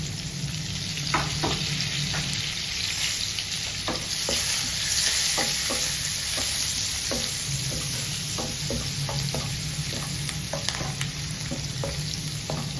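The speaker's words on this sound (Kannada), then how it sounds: "ಇದು ಫ್ರೈ ಆಗ್ತಾ ಬರುತ್ತೆ" Garlic, ginger, green chilli and curry leaves fry in oil with a steady close sizzle, broken by frequent light taps and scrapes of a spoon stirring the pan throughout.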